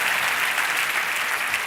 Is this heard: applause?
yes